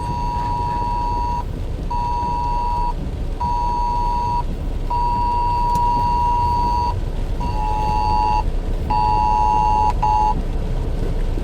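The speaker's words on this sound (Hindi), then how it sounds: "ये गवर्नमेंट का अलर्ट आ गया मोबाइल पे जो आता है ना, रेड अलर्ट, वो ये उसका पूरा टोन था भाई साहब।" A government red alert emergency tone blares from a mobile phone, sounding as loud, steady beeps in repeated bursts of uneven length over constant background noise.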